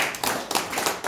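Brief burst of clapping from an audience welcoming a speaker at a formal ceremony, several hands clapping in quick irregular rhythm, fairly close and moderately loud.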